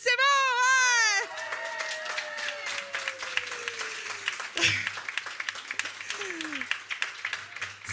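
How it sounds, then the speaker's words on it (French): A studio audience at a live women's comedy show applauds and cheers briefly, with a voice rising over the crowd at the start before the clapping carries on more softly. "Applaudissez-vous!"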